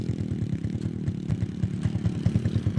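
A motorcycle engine from a Filipino hauler group runs steadily, close and loud, in a low, continuous rumble with rhythmic throttle pulses.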